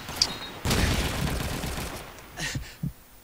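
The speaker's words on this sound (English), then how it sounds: "Another nade." Counter-Strike gunfire and grenade blasts in an ESL match: a short bang, then a dense burst of rapid shots, followed by a couple of quick thuds, fairly loud against the game's background noise.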